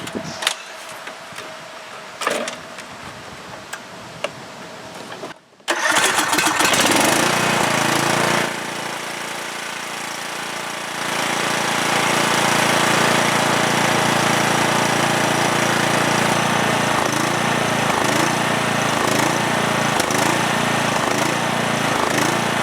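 A lawn tractor engine that stalls and dies after about 30 seconds, with a spark plug just replaced. Quiet clicks and handling come first, then the small engine catches and runs loud and steady close by, with a brief dip in its drone.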